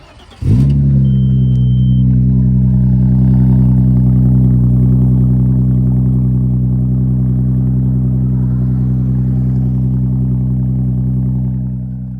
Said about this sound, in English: get some heat in this engine, and go out and take it for a spin, see what kind of noises it makes